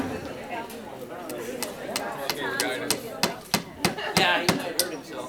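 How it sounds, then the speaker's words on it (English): A hammer strikes a wooden wine box at a wedding wine box ceremony in a quickening series of sharp knocks, the blows growing louder toward the end, with people chatting and laughing throughout. "Here comes Jaclyn and Matt using the hammer."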